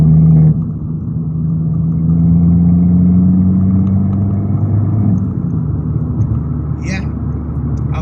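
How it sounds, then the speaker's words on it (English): An Abarth fitted with a vent filter accelerates in fourth gear, with a steady, loud engine drone and turbo rising smoothly in pitch, then easing off near the end. "I'm actually quite surprised at the delivery from the turbo and the engine"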